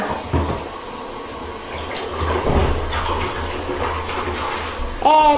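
Cold water runs steadily from a tap, splashing and gurgling up close for several seconds, growing a little fuller midway, with a brief squeaky sound right at the end.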